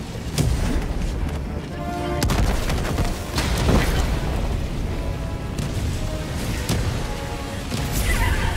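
Grenade blasts and gunfire from Helldivers 2 on Malevelon Creek against Automatons: dense booms and rattling shots overlap continuously, loud and close throughout, with no talk heard.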